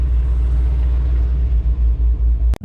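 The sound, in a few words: cammed 5.7 Hemi drag car engine on a hot lap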